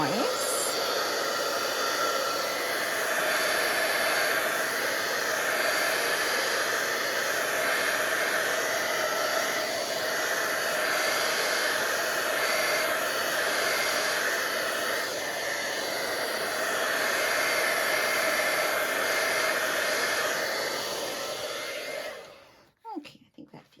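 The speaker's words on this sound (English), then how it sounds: "So plug this in, and we're just going to give it a little bit of heat to dry that a bit" Heat tool drying cardstock before die cutting in a card-making setup: a loud, continuous blowing hiss held for about twenty seconds, then switched off abruptly.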